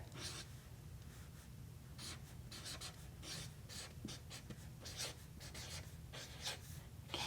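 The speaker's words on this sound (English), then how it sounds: "I'm going to write introductions can on our chart paper." A marker squeaks and scratches across chart paper in short, quick strokes during a classroom writing lesson, quiet and close with no talking.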